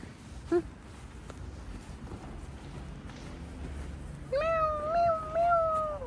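A cat meows: a brief chirp early on, then a long, wavering, drawn-out meow near the end, close and fairly loud with no talking.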